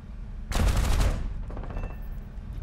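A Grumman F6F Hellcat's machine guns fire a loud, rapid burst of about three-quarters of a second at an enemy aircraft in a flight game, followed by a quieter trailing rattle over steady engine drone.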